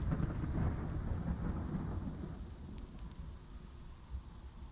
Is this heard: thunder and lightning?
yes